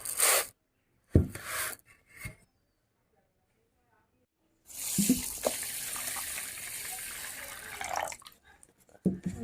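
Water runs from a tap into a container of 750 grams of rice set to soak for Bengali rose cake, in a few short splashes and then a longer steady pour, with a voice heard briefly.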